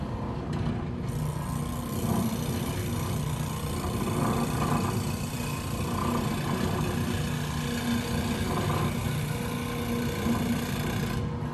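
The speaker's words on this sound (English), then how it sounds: "I'm finding one little spot on the sander that I want to put the wood, and I'm kind of letting the sander do the job" Electric sander rounding over the edge of a wooden clock face, a steady close whirring grind with a rasping texture that holds evenly throughout, no voices.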